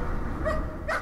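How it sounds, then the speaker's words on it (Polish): A dog in the horror game Layers of Fear gives two short barks, one midway and one at the end, close and clear over a low dark ambient drone. "Pieseł."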